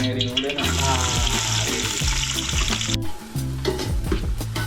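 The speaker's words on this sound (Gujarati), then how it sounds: "તેલ ગરમ થઈ ગયું છે હવે કેપ્સિકમ નાખી દો" Capsicum hits hot oil in a pan with a loud, continuous sizzle and crackle, broken by rhythmic low scraping from stirring and a brief pause partway through.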